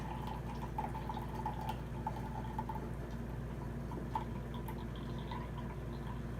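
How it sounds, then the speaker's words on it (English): Gong-fu tea decanted from a small pot into a pitcher, a thin steady trickle of liquid with light dripping, quiet and close over faint room noise. "we are going to decant our tea into the pitcher"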